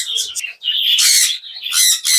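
Finches and budgerigars chirp and squawk in quick, loud, close bursts, a busy overlapping chatter of small cage birds.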